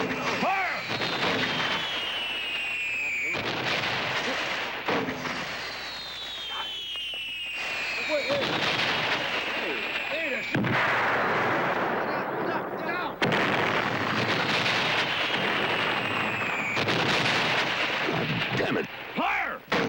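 A group of men fire guns in a 1970s Western standoff, sharp blasts and echoing reports coming in repeated bursts, loud and close, with a few shouted voices among the shots.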